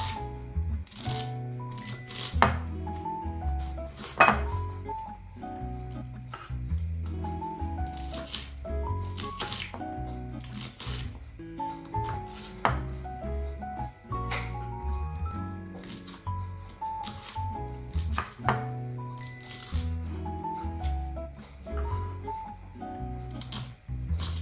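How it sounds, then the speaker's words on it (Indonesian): A knife chops cabbage with a steady run of crisp, close strokes that repeat for a long stretch, set against continuous soft background music. "Bisa dipotong besar, bisa dipotong kecil ya."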